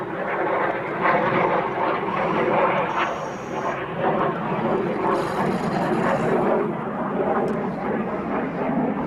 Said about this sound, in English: Another plane there